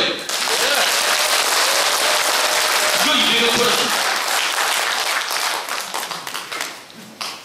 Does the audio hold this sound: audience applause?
yes